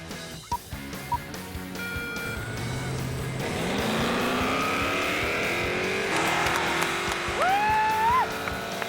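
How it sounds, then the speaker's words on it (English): A race car warms up its tires before a practice run, the engine rising from low rumble to a loud, sustained roar with squealing tires and a rising whine near the end. "warms up his tires for the practice run"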